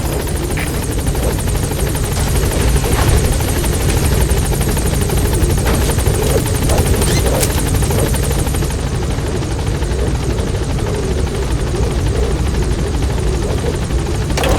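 A helicopter in the Metal Gear Solid V video game arriving at a landing zone, its loud, continuous rotor buzz and engine drone filling the whole stretch without letup.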